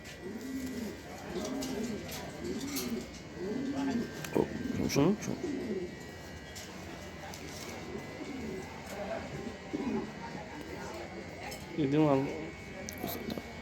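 A pigeon coos repeatedly in low, throaty rolling calls close by, heard between and under someone talking.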